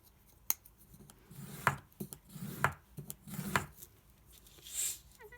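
Paper being creased along a folding line while making a telescopic gift tag envelope: a few short crisp rubbing swipes, close and fairly quiet, with a small scrape near the end.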